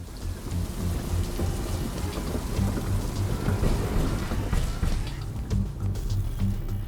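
Steady rain falls in The Riftbreaker video game, a dense hiss of drops on surfaces with a low rumbling undertone, continuous and moderately loud throughout.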